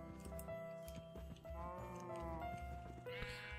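Sheep bleat in the video game Minecraft, several short wavering calls layered over a steady tonal game backdrop, fairly close and clear with no talking.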